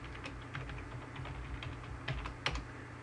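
A root password is typed on a computer keyboard: a quiet, irregular run of soft key clicks with a slightly sharper tap near the end, in an otherwise hushed room.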